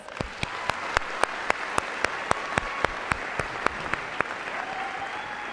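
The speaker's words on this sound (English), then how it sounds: "Let's give them a round of applause." Graduation ceremony audience applauds the staff and volunteers, a dense crowd clapping with a prominent nearby pair of hands striking in a quick steady beat, fading slightly toward the end.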